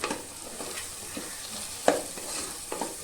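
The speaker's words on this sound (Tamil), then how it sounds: "இஞ்சி போட்டு வதக்கலாம்." Ginger sizzles as it is sautéed and stirred in a pan with Kashmiri chilli powder for a chicken gravy, a steady close frying hiss broken by scraping stir strokes and one sharper clack.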